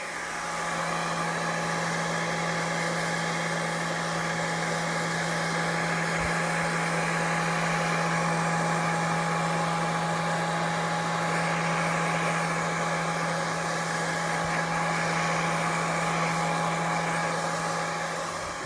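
A hot air blower set on low heats wax on a jacket, giving a steady, moderately loud motor hum and airy rush that holds without a break for nearly twenty seconds.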